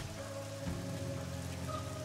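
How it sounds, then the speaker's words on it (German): Steady rain falling in the video game 7 Days to Die, a continuous hiss with a low droning hum underneath, with no voices present. "Es regnet, ja."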